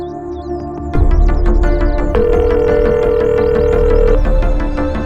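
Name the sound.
telephone ringing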